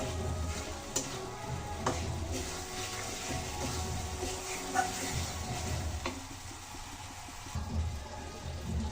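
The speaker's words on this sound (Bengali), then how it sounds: "এখন আমি বেঁচে রাখা আলুগুলো দিয়ে দিচ্ছি। আলু দিয়ে মশলাটা একটু ভালো করে কষিয়ে নেব।" Potatoes frying in a spice paste (masala) in a pan, a soft steady sizzle with occasional clicks and scrapes of stirring, fairly quiet and with no talking.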